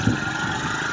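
TVS Sport BS4 motorcycle engine idling with a light ticking timing chain noise, a steady even running hum close by with a faint rattle, no talking.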